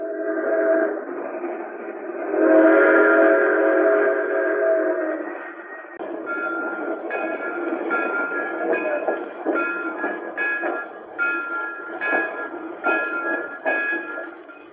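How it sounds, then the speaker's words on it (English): A Lionel toy train runs along its rails, a steady rolling rumble with rhythmic clacking that grows busier and more pulsing in the second half, heard close and without speech. "Look at her streak along the rails. It's a Lionel."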